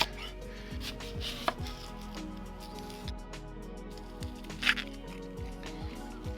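Onions being chopped for black pepper chicken lo mein: a steady series of knife strikes on a cutting board, close and fairly quiet, with no talking.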